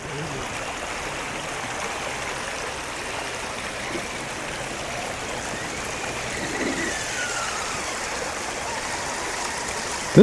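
Water rushing and splashing steadily in a creek as an RC rock crawler truck drives through it, a continuous broad hiss with a faint rise near the end.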